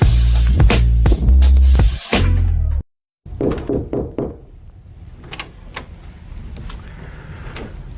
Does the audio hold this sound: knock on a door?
yes